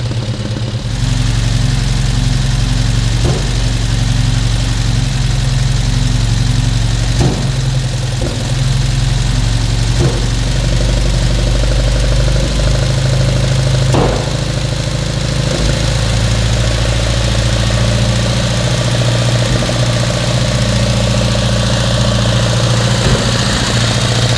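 Volvo 145 engine fitted with twin Weber carburetors idling during carburetor tuning, a loud steady low hum that holds even for the whole stretch, with a few faint clicks and no talking.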